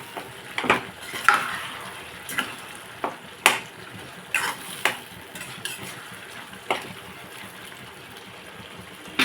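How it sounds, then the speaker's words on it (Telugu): Tomatoes cooking in a pan for tomato egg curry, stirred with several sharp scrapes and clinks of a utensil against the pan over a soft, steady sizzle, close by and without talking. "ఒకసారి కలుపుకున్నాండి. టమాటాలు ఇంకా బాగా మగ్గాల."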